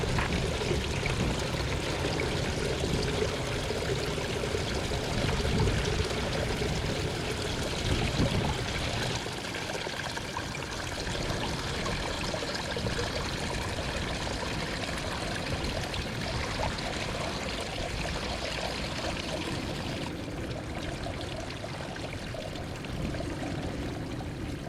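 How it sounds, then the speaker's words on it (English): Groundwater seeps from a coastal bluff and drips and trickles onto the beach below, a steady wash of splashing water with a dense, constant flow lasting throughout, with no talking. "The leaks often drip across a bigger area than the mouth of the coffee can"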